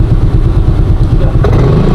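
A motorcycle engine idles loud and close while being parked, a steady low chugging rumble with a slight rise in revs toward the end, with no talk over it.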